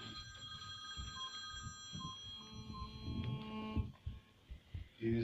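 A telephone rings with a steady electronic trill in the background at a film festival, while a person talks nearby and some shuffling noise follows.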